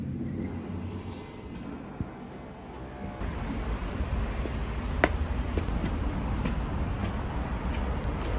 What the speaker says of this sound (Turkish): O kadar rüzgar var ki hep başörtüm bozuldu.